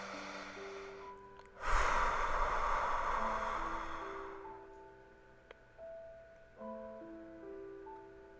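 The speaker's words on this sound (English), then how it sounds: "Maybe coming back to a couple deep breaths." During a yoga practice, one deep breath is drawn and slowly released, a soft, airy whoosh that swells and fades over a few seconds. Gentle tonal music plays beneath it.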